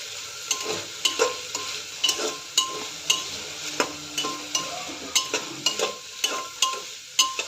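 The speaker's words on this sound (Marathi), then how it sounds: "त्यानंतर बीट आणि गाजर घातलेलं आहे. हे 1-2 मिनटं परतून घ्यायचं आहे." Beetroot and carrot are sautéed with onion, cinnamon, garlic, ginger and spices in a pan for a carrot soup. A soft sizzle runs under close, rhythmic scrapes and clinks of a spatula stirring repeatedly against the pan.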